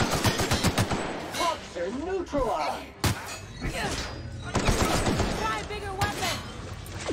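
Gunfire in The Outer Worlds during a combat firefight: repeated sharp shots and rapid bursts with thumps and impacts, loud and close, mixed with game dialogue and a player talking over the shooting.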